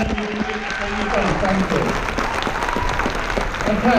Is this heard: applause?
yes